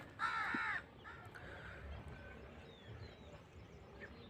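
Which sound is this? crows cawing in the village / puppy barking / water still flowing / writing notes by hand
crows cawing in the village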